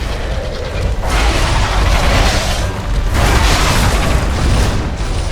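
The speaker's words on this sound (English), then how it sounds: "If I'm lucky, he will just dive bomb." Belfry Gargoyle's dive bomb attack in Dark Souls 2 on PC: a loud, sustained roaring rush of wind and impact noise, swelling in two heavy waves, close and dense with no talk.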